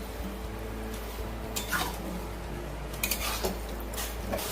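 Chicken being stir-fried in a pan, a low continuous background hum with a few metallic scrapes and clinks of a spatula against the pan, fairly quiet and close.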